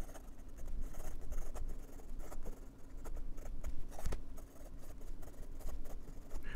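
2023 Eureka PEEK fountain pen scratching quickly across paper, a continuous close, busy rustle of short strokes and taps without pause.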